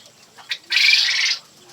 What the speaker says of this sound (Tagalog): That's a male quail bird.